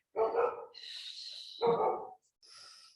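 Dogs bark in two loud, close bursts, each followed by a long high whine or yelp, with a brief quieter whimper at the end; no talking.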